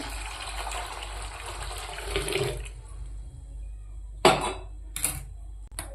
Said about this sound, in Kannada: ಇವಾಗ ಬಿಸಿನೀರು ಹಾಕ್ತಾರೆ